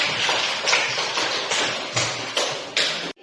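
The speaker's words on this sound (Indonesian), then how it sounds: "Kita beri aplaus buat kelompok." Brief burst of hand clapping for a group at a classroom teaching-performance session, a few rhythmic waves of claps close by that stop abruptly after about three seconds.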